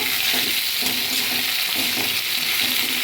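Mutton pieces fry in oil with onions in a pan, making a loud, dense, close-up sizzle with rhythmic stirring pulses throughout.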